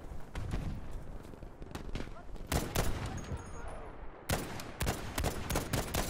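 Rapid bursts of automatic gunfire in a video game crack in dense volleys, pausing briefly before more clustered shots, with a player talking faintly underneath.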